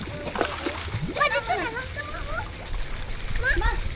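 Water splashes and sloshes as people shower beside a swimming pool, a steady wet spatter close by beneath excited talking and children's voices.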